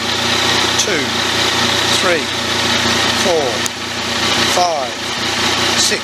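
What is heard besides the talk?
Yamaha MT-09 Tracer engine idling during cruise calibration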